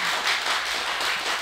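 An audience at a regional election candidate event claps together in a dense, steady patter, moderately loud and even, with no voices over it.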